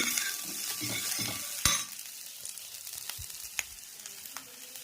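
Food sizzling and stirred in a hot pan while cooking sambar, a steady frying hiss with scraping strokes and a sharp clank partway through.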